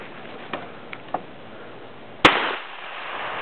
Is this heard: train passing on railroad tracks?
no